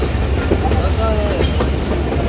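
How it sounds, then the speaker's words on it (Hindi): Awam Express train pulling into Kot Lakhpat railway station in Lahore, hauled by a ZCUP 30 locomotive: a steady, loud rumble of rolling stock with faint wheel clatter and brief squeals, heard close from on board. "तो दोस्तों ट्रेन हमारी इस वक्त लाहौर का पहला stop coat Lakhpat railway station"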